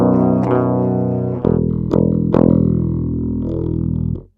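Electric guitar recorded as a clean DI signal straight into an audio interface with no effects, ringing chords struck a few times and sustaining evenly before stopping.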